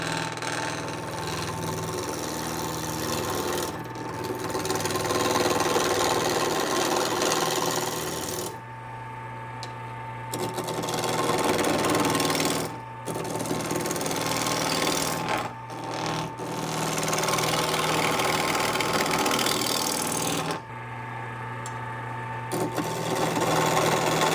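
A wood lathe turns a small lidded box, giving a steady loud whir with rough cutting noise that drops out briefly a few times as the tool comes off the wood.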